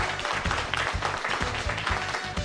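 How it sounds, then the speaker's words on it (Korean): Audience applause greets a high school student contestant at a competitive speaking contest, a dense, steady patter of many hands clapping throughout, with a rhythmic low thumping underneath. "장안고등학교의 김채연 학생을 여러분 큰 박수로 환영해 주시기 바랍니다"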